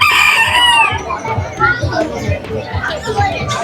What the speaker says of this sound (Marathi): कोंबडे तर आपले असेच फिरत असतात.